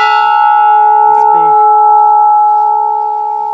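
A large Hindu temple bell rings out with a long, sustained metallic tone that hangs and slowly fades, loud and close, with a faint brief sound partway through.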